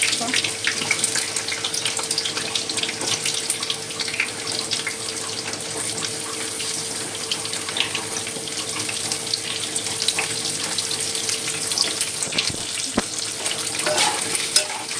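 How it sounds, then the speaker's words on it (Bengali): Pieces of pointed gourd (potol) fry in hot oil, a loud, dense, hissing sizzle that holds steady throughout, with a faint hum underneath and a brief knock near the end. "এবার এই তেলেতেই আমি পটলটা একটু ভেজে নেবো।"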